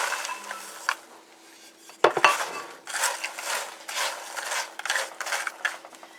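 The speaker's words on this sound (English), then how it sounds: "Now I'm going to put my pecans in here." Pecans tipped into a pot of sugar land with a sharp clatter partway through, followed by repeated rattling, scraping bursts as the nuts shift against the pot, fairly close and with no talking.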